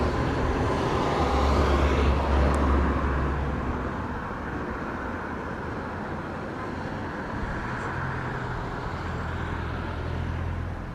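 A Southwest airliner takes off from runway 25 at Montego Bay, a steady broadband jet roar that swells near the start and then holds as a sustained rumble into the distance.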